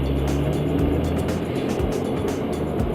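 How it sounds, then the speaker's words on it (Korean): A Porsche 911 (991) Carrera S with Sport Plus switched off idles or cruises with a fairly loud, steady low exhaust rumble and light rhythmic pulsing, no voices over it. "스포츠 플러스를 끄면 이렇게 됩니다. 조용하죠?"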